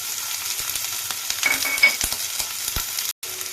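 Water spinach frying in a pan with chopped onion and green chilli, a steady close sizzle broken by scraping stirring strokes, with a brief cut near the end.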